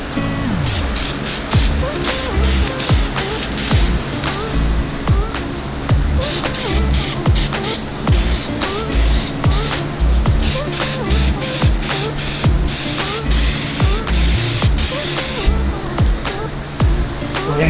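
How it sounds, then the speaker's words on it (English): Black paint is sprayed onto car interior side panels for a custom Infiniti G35 in a series of loud, close, hissing bursts with short pauses between passes, steady and unbroken by talk. "We're gonna go ahead and spray the black."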